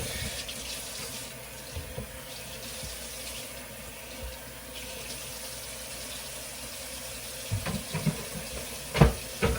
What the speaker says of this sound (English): Wash this knife. Wash both of these cutting boards.